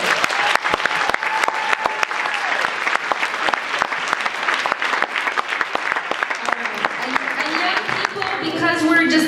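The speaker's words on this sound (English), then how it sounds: "can we give a huge round of applause to all the amazing young people?" A keynote audience at an awards event applauds the young people with dense, sustained clapping, loud and steady, as a voice begins speaking near the end.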